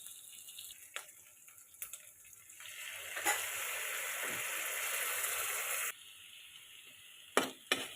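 Tomato paste made from two blended tomatoes hits hot oil with a burst of bright sizzling lasting a few seconds. Quieter scraping and clinking come before and after the burst.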